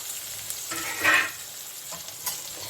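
Chopped onions, two medium ones, hit a pan of hot garam masala for a jackfruit curry, giving a soft steady sizzle with a brief louder burst of frying and light stirring scrapes, close by and with no talking.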